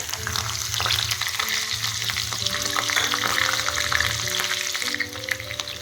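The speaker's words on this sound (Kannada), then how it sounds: "ಸಾಸಿ ಜೀರಿಗೆ ಅರ್ಧ ಸ್ಪೂನು ಶಿಟಪಟ ಅಲತ್ತಾವ ನೋಡ್ರಿ" Mustard seeds and cumin crackle and splutter in hot oil as tempering for uddina bele saaru, a dense, close, continuous sizzle with quick popping bursts and the scrape of stirring.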